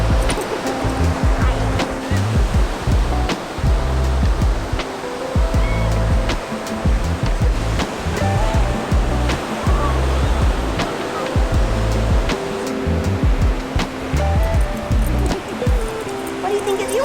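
Ocean surf rolls onto the beach at Mazatlán, Mexico, a steady broad wash of waves with people talking over it throughout.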